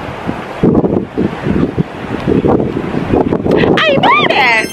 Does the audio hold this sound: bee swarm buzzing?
no